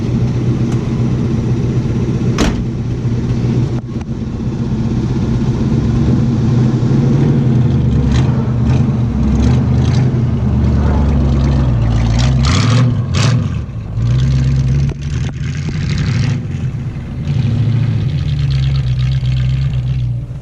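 A 1975 Chevrolet Camaro LT with a 350 and a 4-speed drives through snow, its deep engine rumble loud and steady from inside or nearby, rising and falling with a few sharp knocks and clunks along the way.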